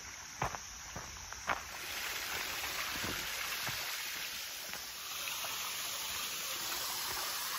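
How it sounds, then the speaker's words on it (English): Creation Falls, a small waterfall in Red River Gorge, gives a steady soft hiss of splashing water heard from a short distance, with a few light footsteps or crunches in the first seconds. "I hear the waterfall."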